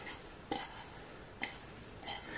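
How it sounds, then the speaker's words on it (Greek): A utensil stirs food in a pan with three soft scraping clicks spaced about a second apart. They sit over a faint background hiss, quiet and close, with no talking. "Ανακατεύουμε λιγάκι."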